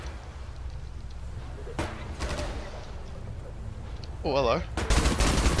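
Rapid automatic gunfire in the shooter video game Adaca, bursts and sharp shots scattered through the stretch and growing louder and denser near the end, with someone briefly speaking over it.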